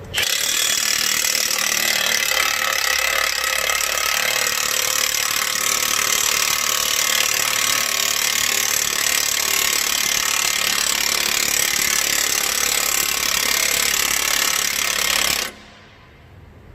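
A Matco power tool runs loud and steady for about fifteen seconds against rusty metal, its grinding, rasping whine continuous with no talk, then cuts off abruptly near the end.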